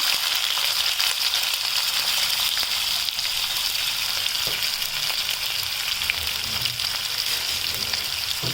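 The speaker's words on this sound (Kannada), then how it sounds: "ಇದಕ್ಕೆ ಒಂಚೂರು ಸಾಸಿವೆ ಹಾಕ್ತಾಯಿದ್ದೀನಿ ಅದು ಶಬ್ದ ಬರ್ತಾ ಇರುತ್ತಲ್ವ" Mustard seeds crackle in hot oil for a dhaba-style paneer bhurji, a dense, loud, continuous sputter and fizz with constant tiny pops close up and no talking.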